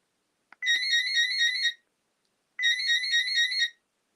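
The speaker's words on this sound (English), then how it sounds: "there is the bass ringer, but I can't play that on full volume because it's freaking loud" A telephone rings twice, each ring a bright warbling electronic trill lasting about a second, separated by a short silence.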